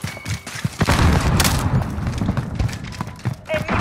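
A frag grenade detonates in Call of Duty: Modern Warfare, a heavy thump amid scattered gunfire and combat noise, with voices calling out during the action.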